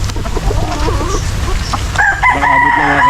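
Chickens cluck and a rooster crows nearby in the Philippines, the bird calls loud and continuous across the short stretch, with a busier burst of calls toward the end.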